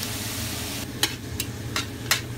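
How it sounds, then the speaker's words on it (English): Two pounds of mild and spicy Italian sausage browning with a medium onion in a pan, a steady low sizzle with a few sharp spatula scrapes, close and moderate, no talking. "Start by grilling up 2 pounds of Italian sausage."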